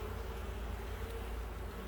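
Honey bees buzz in a continuous low drone during a beehive inspection, a soft, steady hum heard close by with no voices.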